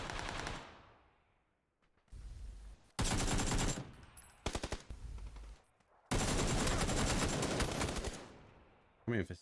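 Bursts of automatic gunfire in the PUBG video game during a console esports match, loud rapid rattling volleys broken by short pauses, with a fading shot at the start.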